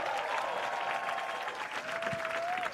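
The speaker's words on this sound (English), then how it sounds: "let's applaud for the Gold Dusters" Audience clapping for a camp group at an end-of-camp performance, a dense, steady patter of many hands filling the room, moderately close, with a few faint voices and whistle-like tones mixed in.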